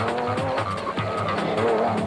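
Rally Art Mitsubishi Pajero rally car driving on a dusty, dry route, a loud engine revving and rising in pitch as the vehicle races along, with gear changes and tyre noise.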